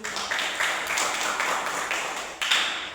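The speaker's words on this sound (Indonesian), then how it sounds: "Tepuk dulu." A group in an Islamic jurisprudence teacher-training class claps together in a quick, steady rhythm for about three seconds, the claps bright and close, with faint voices underneath.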